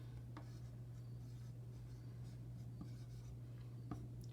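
Hand writing a number, likely pen or pencil on paper: faint, soft scratching strokes with a few light taps, set against a steady low electrical hum, with no talking.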